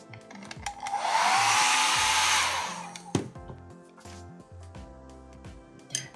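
A hair dryer blows on a freshly painted watercolor of autumn asters, a loud steady whoosh lasting about two seconds before it cuts off, leaving quieter handling noises.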